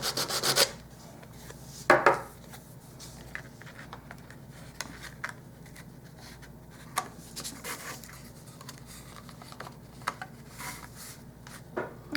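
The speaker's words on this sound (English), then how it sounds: "that just took a little bit of sanding on all the edges, especially paying attention to the corners to get that in." Wooden piece for a beachside bungalow model being hand-sanded along its edges to fit, a soft, steady rubbing and rasping at close range with occasional louder knocks and scrapes, no talking.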